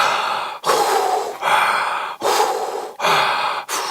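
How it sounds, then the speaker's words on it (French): Fast, hard hyperventilation during holotropic breathwork: loud, close gasping breaths in a steady rhythm, about five strong cycles with brief catches between them, and no speech. "L'hyperventilation, simplement respirer plus vite et plus fort."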